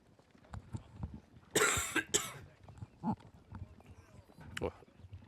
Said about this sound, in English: Apologies if that cough came across.